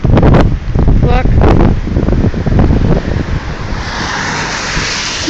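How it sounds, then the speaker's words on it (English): Strong hurricane wind gusts buffet the microphone and roar through a shaking tree, loud and turbulent with rustling bursts, easing into a steadier hiss. "See a big gust of wind and the whole thing shakes."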